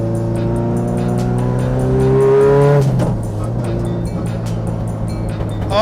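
A Nissan S13 drift car with a sequential gearbox roars close by, its engine pitch climbing hard before a sharp gear change and a drop, then pulling steadily again, with tire squeal mixed into the loud, continuous run.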